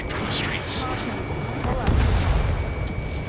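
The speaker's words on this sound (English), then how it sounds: "Gunfire and the roar of jets echoing through the streets" Heavy gunfire and roaring jets echo through city streets under martial law in the Ace Combat 7 video game, a dense, continuous wall of rumbling blasts and broad noise that swells louder in the second half.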